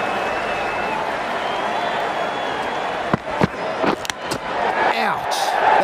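Cricket crowd cheering at the South Africa vs New Zealand Tri Series final: a sustained stadium roar, with sharper bursts of claps and shouts rising toward the end.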